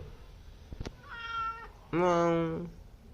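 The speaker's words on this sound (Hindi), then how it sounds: "मेरे को म्याऊं म्याऊं की आवाज़ आई है" A cat meows twice, a shorter mew followed by a louder, drawn-out meow, close by with a soft click before them.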